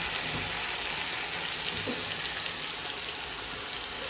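Tomatoes, onion, carrot, beans and potato sauté in a pan for sambar, giving a continuous soft hissing sizzle at close range, steady and even with no voices.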